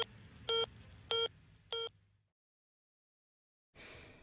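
Four evenly spaced telephone keypad tones sound during a stage play, followed by a short, near-total silence and then a burst of room noise.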